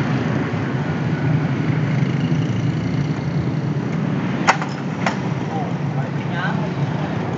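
A modified Indonesian-built motorcycle engine idles steadily and loudly up close, with a low rumbling drone and a couple of brief sharp clicks partway through.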